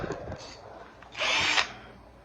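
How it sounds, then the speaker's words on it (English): Power drill whirring briefly while scalloping frets 17–21 on a Nema ST-25 guitar neck, a loud burst of about half a second after quieter workshop handling sounds. "I go to the drill."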